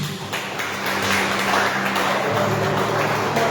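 A church congregation clapping for Jesus during a sermon: dense, steady applause from many hands fills the room, with a low sustained tone running beneath the clapping throughout.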